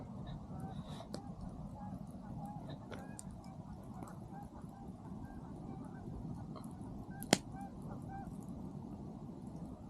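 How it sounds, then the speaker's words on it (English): Geese honk repeatedly in the distance at a campsite around 8:15, faint scattered calls over a steady low outdoor rumble, with one sharp click partway through. "The geese are still going apparently."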